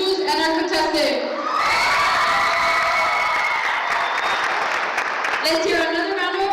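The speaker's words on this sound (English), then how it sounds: "let's give the biggest applause to Dom from Isus and our contestant." A prom fashion show pageant audience erupts in loud, sustained cheering, whooping and applause filling the room, with an amplified announcer's voice heard at the start and end.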